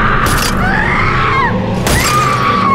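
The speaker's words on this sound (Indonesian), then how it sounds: "pria itu memecahkan kaca mobil" Car window glass smashed in a sudden attack, two sharp shattering bursts with ringing debris over a loud, busy background.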